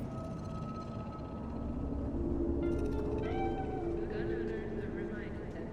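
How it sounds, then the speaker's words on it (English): A cat in the video game Cyberpunk 2077 lets out a drawn-out meow over a steady low in-game ambient hum, with a few short electronic tones around it and speech from the game. "Do you see it? The cat."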